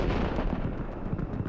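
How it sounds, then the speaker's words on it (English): A HIMARS strike blows up a Russian Buk missile launcher near Donetsk, heard as a loud, sustained roiling blast rumble, dense and heavy in the low end, churning steadily for the whole moment with no voices over it. "A moment later, we witness a tremendous explosion"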